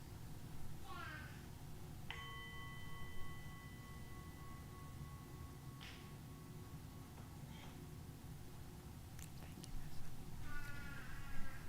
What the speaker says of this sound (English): we'll ring the bell for each of these people